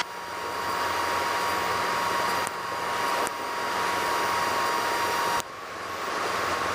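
A Cessna 172RG engine drones loud and steady in the cabin during the climb after takeoff with the landing gear retracting, a constant broad roar with a few brief dips and no talk.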